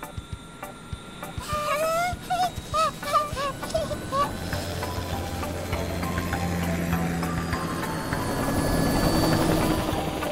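A cartoon helicopter lifts off and flies, its steady rotor-and-engine drone building and holding loud, with honking, goose-like cartoon calls and effects early on.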